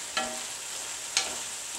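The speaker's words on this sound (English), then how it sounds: "Give it a quick stir." Pot sticker filling stirred in a pan with a splash of white wine: a steady soft sizzle with two quick scraping stirs about a second apart.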